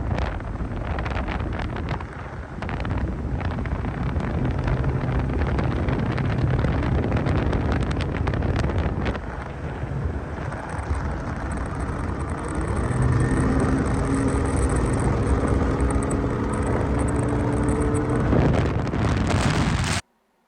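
An old Mercury outboard motor on a boat runs at full throttle around 51 mph, a loud continuous roar buried in heavy wind buffeting and rushing water, steady to the end.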